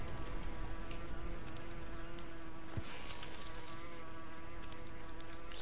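A fat single housefly-like buzz drones near a wasp nest in the jungle survival game Green Hell, a steady faint insect hum with ambient jungle noise, no talking.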